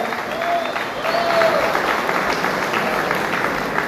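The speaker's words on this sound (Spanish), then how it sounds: "un aplauso," An audience at a school graduation ceremony claps for a philharmonic band, a steady wash of crowd applause at moderate loudness that continues evenly for a few seconds with a faint voice underneath.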